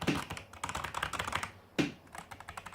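Typing on a Logitech G410 mechanical gaming keyboard: a close run of quick key clacks, then a sharp louder keystroke and a few more lighter taps, with no voices.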